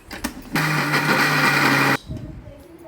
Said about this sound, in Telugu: అన్నీ కలిపి మిక్సీ వేసుకోవాలి